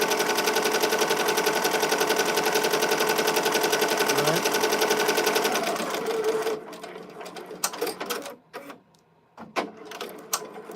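A Ricoma EM-1010 embroidery machine stitches loudly and steadily, its rapid needle rhythm running continuously for about six seconds before stopping, leaving scattered clicks and handling noises.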